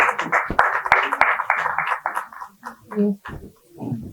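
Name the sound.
audience applause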